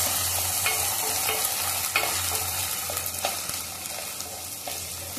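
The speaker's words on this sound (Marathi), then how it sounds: "थोडं मिरची आणि जिऱ्याच्या फोडणीमध्ये आपल्याला थोडं शिजवून घ्यायचं" Boiled peanuts sizzle and fry in a chilli and cumin tempering without water, with a steady hiss and occasional scraping stirs against the pan, close and continuous with no talking.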